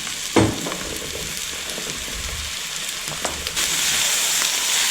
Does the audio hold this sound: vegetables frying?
yes